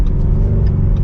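A Ford Mustang Shelby GT350R engine giving a loud, close, steady low rumble that holds even throughout the short stretch.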